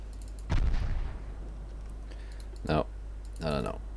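Naval guns firing in the warship game Ultimate Admiral Dreadnoughts, a deep boom followed by two more muffled shots, with keyboard clicking and a steady low hum underneath.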